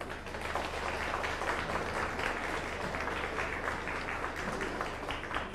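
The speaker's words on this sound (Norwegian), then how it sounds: "gi dem en god klapp, alle sammen" Concert audience applauding after sponsors are thanked at a Norwegian charity concert for a warming shelter, a dense, steady wash of many hands clapping throughout, loud and close with no gaps.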